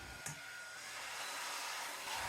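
A blow dryer with a diffuser attachment runs steadily at close range, a constant airy roar used to scrunch-dry curly hair, with a brief bump near the start and no talk.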